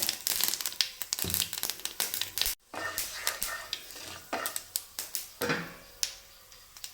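Mustard seeds and fenugreek crackling in hot oil for a variety pickle, sharp irregular pops and spits close by, bursting in quick clusters with a brief break midway, no talk.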